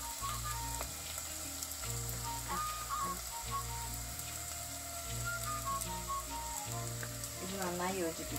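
Chili powder and Kashmiri chili powder fry over a low flame as the base for a sardine curry, giving a steady, continuous sizzle beneath a low, droning musical backing.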